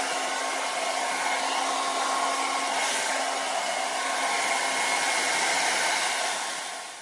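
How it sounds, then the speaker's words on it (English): A hair dryer blows steadily, close and constant, drying hair at the root, then its airflow tapers off slightly at the end with no talking. "Very important to lift straight up, maybe even over a little bit with that blow dry right at the root."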